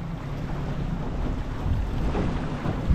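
Steady wind roars across the microphone on a boat at sea, a dense low rumble with a washing, surf-like hiss that holds evenly throughout, no voices present.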